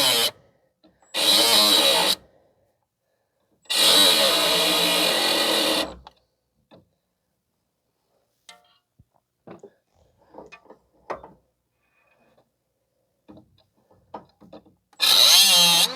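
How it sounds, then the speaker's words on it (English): A power tool cuts off a seized nut on a front stabilizer link in three loud bursts, about a second and two seconds long, separated by quiet gaps with faint clicks and handling noises. "I'm just gonna try to cut the nut off here so I can get the nut off."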